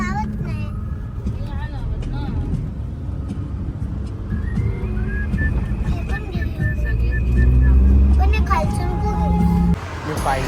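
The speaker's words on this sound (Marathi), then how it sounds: "इथं ट्रॅफिक बघू शकता तुम्ही." Mumbai city road traffic stopped at a signal, with a low engine rumble, passing vehicles and tonal horn-like blares, while people talk over it throughout.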